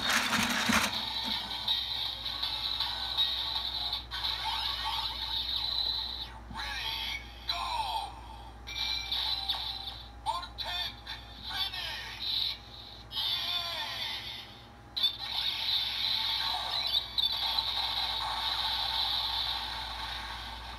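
A DX Build Driver toy belt for Kamen Rider Build is cranked, giving quiet ratcheting gear clicks under a continuous electronic tune and sound effects from its speaker, with a few brief pauses.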